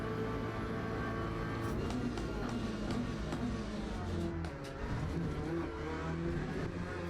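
A race car in the Le Mans Ultimate sim game drives hard on track, its engine a continuous loud, high-pitched drone with shifting revs and faint tire noise throughout, no voices.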